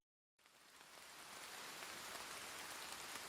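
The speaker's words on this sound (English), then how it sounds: "Rain pours down heavily across the city, clearing up a little later." Heavy rain pours down over a city in a steady, dense hiss that starts abruptly after a short silence and holds at an even, loud level throughout.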